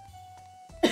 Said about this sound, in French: Il y a aussi la toux.